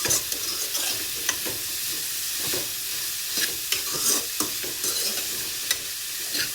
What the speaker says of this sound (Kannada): ಎಣ್ಣೆಲೆ ಫ್ರೈ ಆಗುತ್ತೆ ಎಲ್ಲ ಬಿಸಿಯಾಗಿ.